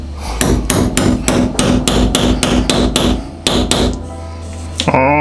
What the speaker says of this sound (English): We have a hammer.